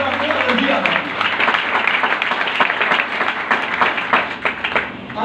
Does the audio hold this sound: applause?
yes